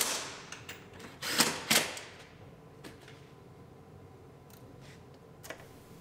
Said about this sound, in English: Tighten up our bolts.